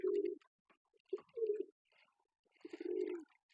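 Pigeons on a pigeon farm coo close by after being bathed, three low, throaty bursts separated by short pauses, with faint rustling in between.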